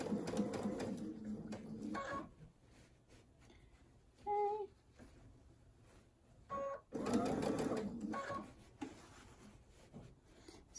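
A sewing machine stitching a fully lined scrub cap, running in short slow bursts of a few stitches with quiet pauses and small fabric-handling sounds between.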